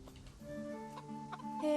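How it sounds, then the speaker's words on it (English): Chickens cluck softly in the medieval video game Kingdom Come: Deliverance, a faint brief stretch of clucking over steady game ambience and a held musical tone. "Hey, chickens."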